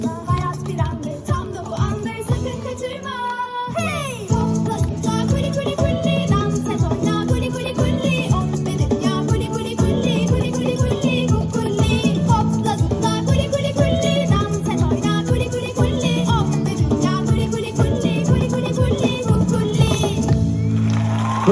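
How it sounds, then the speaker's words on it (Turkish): A children's audience at a theatre musical claps and cheers over lively music, a steady, loud wash of applause and shouts continuing throughout. "Kocaman alkışlar"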